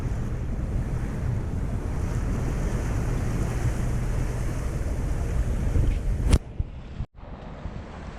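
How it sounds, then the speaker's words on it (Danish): Waves slapping against a sailboat from astern at sea on a summer passage toward Samsø, a steady broad wash of water and wind noise for about six seconds before a sharp knock and quieter tail. "vi har lidt bølger ind fra agter"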